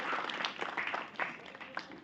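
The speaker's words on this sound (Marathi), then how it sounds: "जोरदार टाळ्या झाल्या पाहिजे." An audience applauding at a stage hypnotism show, a short spell of scattered, moderately quiet clapping from a crowd with uneven bursts and no clear rhythm.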